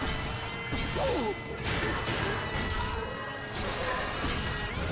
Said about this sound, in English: why don't you try and smash the clearly glass bridge that we're on?